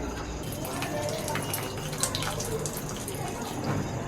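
Water splashes and trickles steadily as it is poured onto microgreens growing in a clay matka, a soft continuous flow heard up close with faint background voices.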